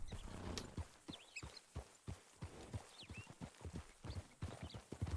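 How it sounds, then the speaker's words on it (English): Paint horse hooves from a video game clip-clop in a steady walking rhythm, close and moderately loud, with a brief faint neigh-like tone and no talk over them. "That's a paint horse."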